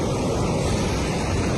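Floodwater after heavy rain rushes over a washed-out dirt road, where the fill over a large culvert has given way; a loud, steady, close roar of churning water fills the whole stretch without pause.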